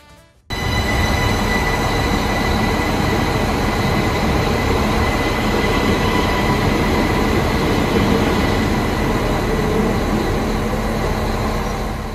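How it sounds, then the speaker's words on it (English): A Siemens Desiro ML train departs Sopron station, a loud continuous rumble of wheels and traction motors with rising whine and wheel squeal, close by and alone throughout. "here we can listen to the departure of the Desiro ML at the station."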